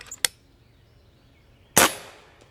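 A .30 caliber bench rest air rifle fires two sharp cracks, a short snap followed about one and a half seconds later by a louder, closer report with a brief ringing tail, outdoors with no talk.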